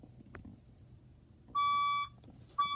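Fire alarm sounding during a building alarm test: two loud, steady electronic tones, the first holding about half a second, the second starting near the end, over quiet background noise.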